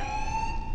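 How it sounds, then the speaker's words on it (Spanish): A warning alarm in the Warhammer 40k Space Marine video game, a steady, loud electronic tone holding one pitch without a break. "Alarma. Daño estructural."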